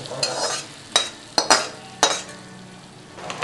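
Semolina being stirred into a sizzling tempering in a pan for ravva pulihora, with a steady frying hiss broken by several sharp scrapes and knocks of a spoon against the metal, close and clear, no talk.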